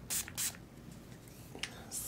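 Three quick hissing spritzes of a cucumber-scented Gerard Cosmetics setting spray, two close together at the start and one more after a quiet pause.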